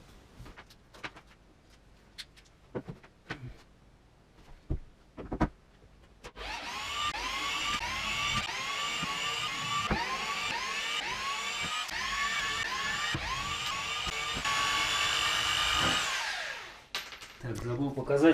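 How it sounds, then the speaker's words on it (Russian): Rotary hammer drill run in reverse to back screws out of a bunk bed frame, starting with scattered handling knocks, then a sustained whining motor with rattling pulses, stopping near the end. "поэтому применил перфоратор для раскручивания"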